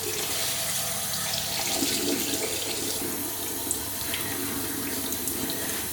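Tap water runs steadily into a bathroom sink during a face wash, a constant close splashing stream with no talking.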